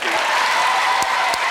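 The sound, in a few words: TV studio audience applauding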